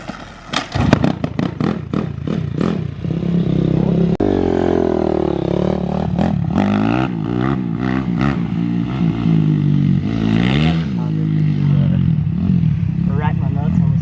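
A motorcycle being kick-started, a few sharp clattering attempts before the engine catches and revs unevenly, close by, with people talking over it.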